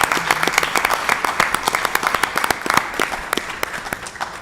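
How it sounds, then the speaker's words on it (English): A school board meeting audience gives a retiring staff member a round of applause, a steady, fairly loud burst of many hands clapping that lasts throughout with no talk over it. "So I just want to give them one more round of applause, one more hand here."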